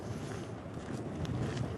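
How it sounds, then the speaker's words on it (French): Steady wind buffets the microphone outdoors in Mongolia, a constant low roar with no talk. "Et il y a du vent."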